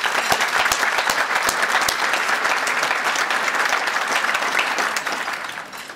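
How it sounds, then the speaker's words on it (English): A crowd at a police awards luncheon applauds with dense, steady clapping that holds strong, then begins to fade toward the end. "Let's give them a round of applause"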